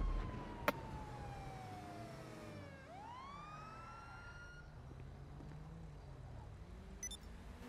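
A police siren in the video game GTA V wails in a slow falling-then-rising sweep, faint and set back under steady in-game engine and road noise.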